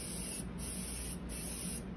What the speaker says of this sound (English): and just begin to spray.